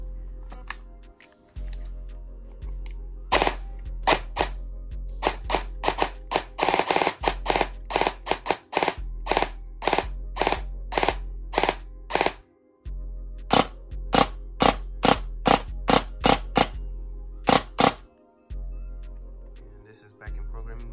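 Airsoft gun fitted with a T238 mosfet firing in rapid semi-automatic bursts of sharp clicking shots, close and loud, over a steady low electrical hum with brief gaps between volleys.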